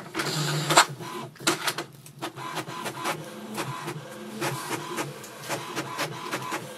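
An HP Tango printer runs off an information page: a steady mechanical whir with rhythmic clicking and pulsing feed sounds, close and fairly loud, without talking.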